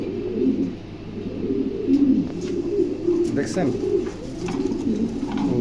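A pair of Mundi pigeons in a pigeon market coo in low, rolling phrases close by, with someone talking over them.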